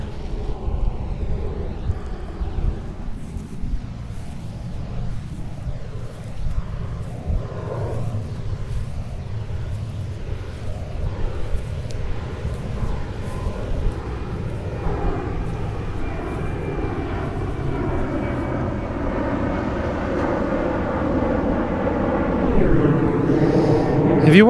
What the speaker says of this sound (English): Another two planes take off